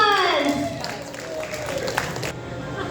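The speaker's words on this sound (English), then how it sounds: "So let's give them a round of applause." Audience applause for performers at a musical presentation, a moderate wash of clapping from a crowd while someone speaks over it.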